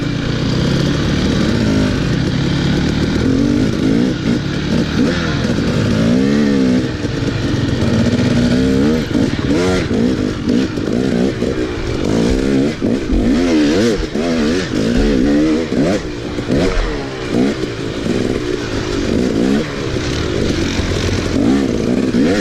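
Several motocross dirt bikes racing on a trail in the Vedder's Vengeance round of a PNWMA event, engines loud and close, revving and shifting continuously with rising and falling pitch and no pauses.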